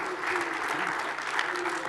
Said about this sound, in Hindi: भाई तालियां तो होनी चाहिए,